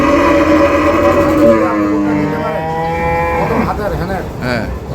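Cattle at a meat-cattle market in Bandarban, several loud drawn-out moos close by, one overlapping another, with crowd murmur underneath.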